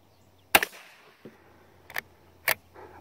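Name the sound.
Iver Johnson Model X single-shot .22 rifle firing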